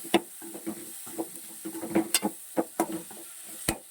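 Sharp scraping and clinking of a spoon stirring bitter gourd curry in a pan, with a faint sizzle underneath, in short irregular strokes.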